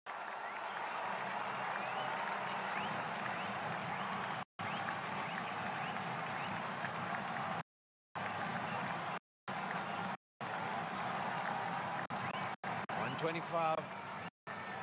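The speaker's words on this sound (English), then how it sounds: "And just listen to this applause." A cricket stadium crowd applauds Dhawan off the field after his innings of 125 in the 2017 ICC Champions Trophy match between India and Sri Lanka. The steady, distant ovation is broken by several brief dropouts.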